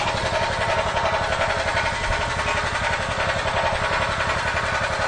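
A portable generator engine running steadily and picking up RPM as electrical load reaches about 12 amps, giving a loud, continuous, throbbing mechanical drone close up with no speech over it.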